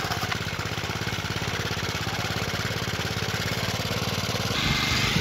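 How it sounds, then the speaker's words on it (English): A 4-cycle string trimmer engine runs steadily to warm up before an oil change, a loud, close, even buzzing drone that rises slightly near the end, heard alone. "We have to warm the engine up for about like 2 minutes or so to get the oil nice and hot."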